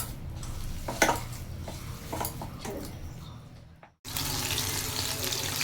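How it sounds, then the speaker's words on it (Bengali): Soybean pakora sizzle in a pan of hot oil in a home kitchen, a steady close crackling hiss that dips briefly, then returns fuller and louder, with a few stirring clinks along the way. "সোয়াবিনের পকোড়াটা বসিয়ে দিয়েছি,"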